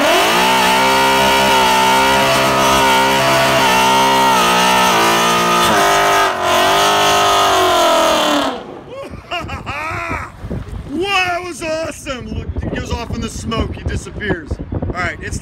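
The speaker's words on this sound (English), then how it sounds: "Can I have one more burnout, please?" A 2018-2022 Mustang GT does a line-lock burnout: a loud, sustained engine roar with tire squeal holds for about eight seconds. Then it drops away to excited voices talking over a fainter rumble.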